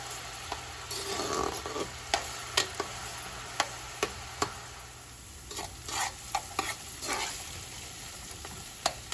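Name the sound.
onion, garlic and peppers frying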